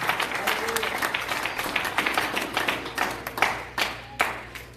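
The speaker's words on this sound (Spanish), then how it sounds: "Denle un fuerte aplauso al Señor" A church congregation breaks into applause, a busy patter of many hands clapping at moderate distance, with a few louder individual claps standing out and some voices mixed in.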